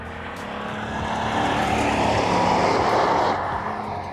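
A 2002 Chevrolet Silverado pickup accelerates hard, its broadband engine roar swelling in the middle and then easing slightly, steady and close with no talking.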